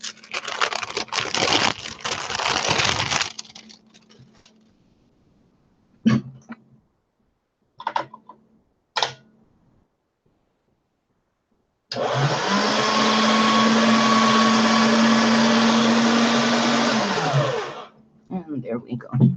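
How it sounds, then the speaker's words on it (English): Polymer clay sheet cranked through a pasta machine, a steady even mechanical whir lasting several seconds, loud and close, after scattered handling clicks and taps. "now I think I can get it through the pasta machine with a lot of care"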